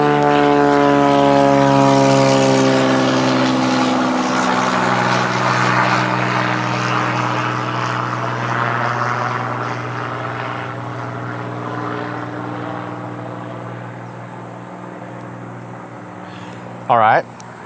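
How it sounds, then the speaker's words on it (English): A low-flying propeller aircraft passes overhead with a loud droning roar whose pitch slides steadily downward as it moves away and fades, ending with a short sharp noise close by. "So I just had a low-flying aircraft go by."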